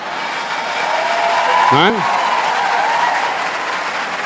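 A large crowd applauds steadily at a Catholic preaching gathering, a broad, even wash of clapping that swells slightly in the middle, with a brief rising squeal cutting through.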